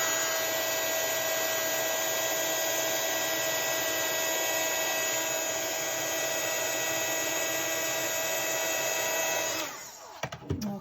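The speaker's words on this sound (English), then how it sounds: "I'm again just holding my heat gun still, and then as soon as that powder starts to melt and change, I'm just moving my heat gun over the image" A heat gun blows steadily to melt embossing powder over a stamped image, a loud, even whirring roar that holds for about ten seconds and then cuts off with a few handling clicks.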